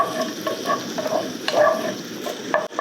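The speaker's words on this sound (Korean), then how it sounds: "이 게조개를 타지 않게 잘 볶아주시면 됩니다." Minced clams stir-frying in sesame oil in a pot give a steady close sizzle, with soft scraping stir strokes recurring through it.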